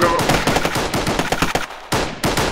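Rapid automatic gunfire from ARMA 3 in close, loud, overlapping bursts of sharp cracks that run nearly continuously, with short gaps before the final volleys.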